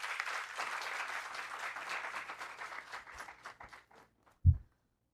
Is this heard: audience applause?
yes